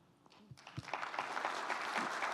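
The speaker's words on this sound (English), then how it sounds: "round of applause for Erica" An audience at a higher-education facilities forum applauds the panelists, the clapping building quickly from a few claps into steady applause from a moderate distance.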